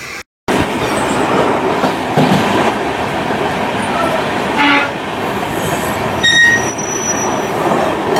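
Shipra Express passenger train rolling steadily on rails at night, a continuous loud rumble of wheels and carriages with metallic squeals and a brief horn-like tone near the end, after a short silent gap at the start.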